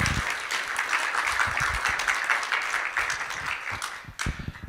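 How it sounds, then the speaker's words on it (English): An audience at a town hall meeting on bushfire preparedness gives a round of applause, a thick, steady crackle of many hands clapping that thins toward the end. "Can we all give Sarah another round of applause?"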